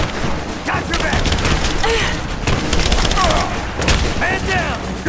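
Gunfire rattles through a Rise of the Tomb Raider firefight, with rapid bursts and scattered shots at varied distances mixed with combat effects and shouting voices.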